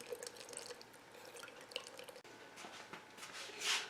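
Comfrey oil trickles and drips steadily from a crock pot into a container, a soft, close pouring sound with small splashes throughout.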